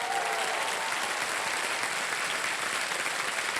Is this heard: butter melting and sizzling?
no